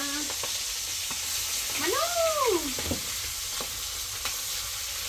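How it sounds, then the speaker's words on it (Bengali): Chicken frying in a pan with a continuous close sizzle, crackling sharply now and then, as a short rising-and-falling wailing tone briefly rises above the hiss midway. "ভাইজা চিকেনটা ভাজি"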